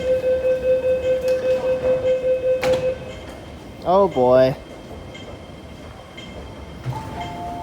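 A train idles at Tuen Mun Station in Hong Kong with a rhythmic pulsing hum, then a rising, wavering electronic tone sounds before someone speaks briefly.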